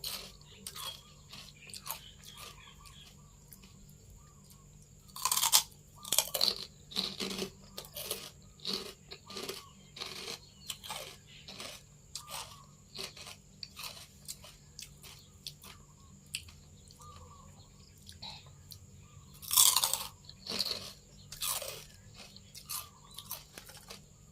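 Crispy Thai pork cracklings (khaep mu) being eaten with chili dips: loud, close crunches and bites come again and again, with wet chewing between them. Two especially sharp bursts of crunching stand out.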